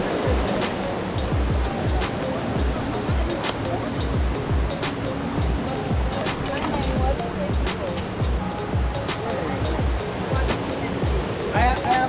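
Steady broadband rush of water from a waterfall along a forest trail, loud and continuous, with people talking over it.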